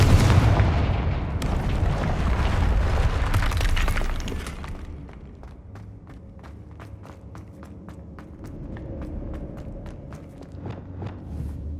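A Confringo blasting curse explodes in the Hogwarts Legacy video game, a loud roaring burst that fades into scattered crackles and sharp debris clicks, with no talking.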